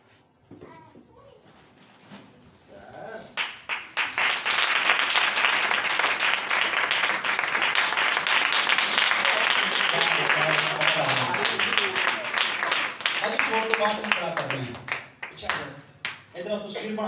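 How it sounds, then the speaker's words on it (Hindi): An audience at a Christian gathering claps hands, building from scattered claps into sustained applause, with voices and someone speaking before and after it fades. "इसका तो सिर्फ तालियां बजाते हैं"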